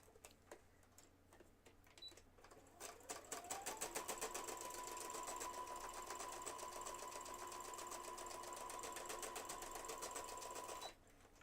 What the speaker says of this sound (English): I'm going to sew it right here across the top